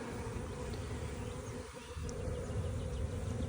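Agitated honeybees at a new hive buzz loudly and steadily at close range, a dense, continuous drone with no voices.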